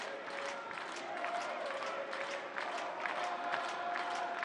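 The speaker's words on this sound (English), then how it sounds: "limited crowd here at Al Lang, but they are making their presence felt" Small, limited crowd at Al Lang stadium applauding and cheering steadily during a Tampa Bay Rowdies soccer match, a continuous, fairly distant wash of clapping with no clear talk.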